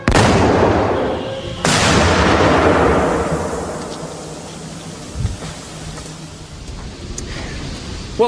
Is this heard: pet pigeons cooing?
no